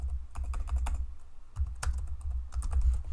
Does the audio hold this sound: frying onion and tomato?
no